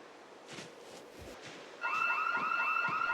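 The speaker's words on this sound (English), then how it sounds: "a blaring alarm is actually the sound of hope." A car alarm in the video game Project Zomboid suddenly starts blaring with a loud, rapidly repeating electronic warble, following a quieter stretch of game ambience.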